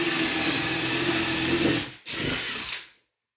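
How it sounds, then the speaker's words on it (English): A power drill bores a Euro hinge cup hole into cabinet wood, whining steadily for about two seconds, cutting out briefly, then spinning again before stopping. "And then just literally drill it out."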